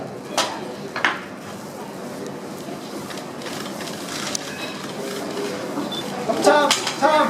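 Previously frozen rice frying in a wok for double-egg fried rice gives a steady broadband sizzle, with sharp clanks and scrapes of the spatula that grow louder near the end, and low voices in the background.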